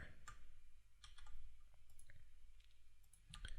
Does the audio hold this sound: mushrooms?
no